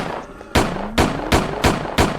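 Rapid bursts of gunfire from the horror video game Shift at Midnight, five sharp loud shots spaced roughly every third of a second over a low background hum.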